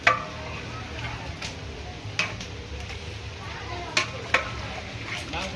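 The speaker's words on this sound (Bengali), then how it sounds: "এখানে মুরগির মাংস রান্না করতেছে।" Chicken meat cooking in a pot for a Bangladeshi Hindu wedding gives a soft, steady sizzle. A few sharp utensil clinks punctuate it, with people talking faintly nearby.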